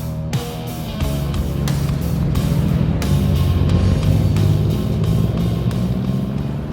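A Triumph Rocket 3 motorcycle's engine runs loud and steady while riding, a deep, continuous rumble with a few sharp transient clicks and gear-like shifts early on, sustained and close.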